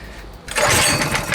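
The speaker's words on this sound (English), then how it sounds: "Hopefully it doesn't foul the plug, but it is trying to start." Modified T196 go-kart engine, with oil left in the cylinder after lying on its side, catches and bursts into a loud, rough, sputtering run after a short quiet pull, close by and without talk.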